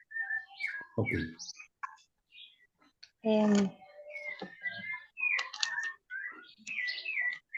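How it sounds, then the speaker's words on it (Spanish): Many small birds chirp and twitter in bursts across the scene, bright short calls at moderate distance, while a person speaks briefly over them. "Se escuchan muchos pajaritos"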